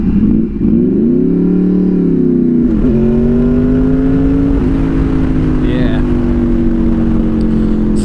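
A Honda VFR800 motorcycle engine revs up with its VTEC engaging, a loud close rising engine note that steps up sharply and then holds a steady high drone.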